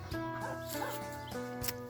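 A dog barks a couple of times at close range, sharp yips standing out against a steady hum in the background.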